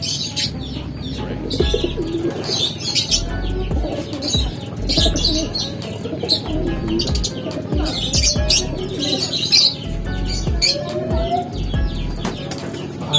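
Pet pigeons or doves in a Filipino fancier's loft coo and chirp continuously, with busy bursts of wing flapping and scuffling close by, and a faint rooster-like call mixed in.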